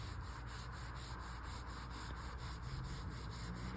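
A hand rubs back and forth over gritty car paint, making a faint, steady, sandpaper-like scratchy rasp with a quick regular rhythm, close and alone with no voices.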